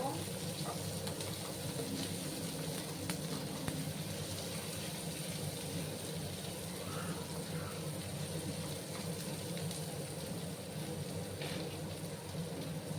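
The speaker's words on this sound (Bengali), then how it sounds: "আমি পেঁয়াজগুলোকে একটু ভেজে নিচ্ছি" Onions frying in a pan with chopped garlic and green chili for a Bengali small-fish dish with ridge gourd and potato, a steady close sizzle and hiss running throughout while someone talks over it.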